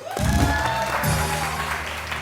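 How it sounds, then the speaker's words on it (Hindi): Short burst of studio audience clapping on a morning TV show, a dense continuous patter at steady loudness with music running beneath. "तालियां महरोज के लिए"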